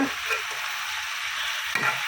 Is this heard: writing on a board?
no